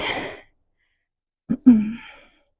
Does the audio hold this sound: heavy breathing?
yes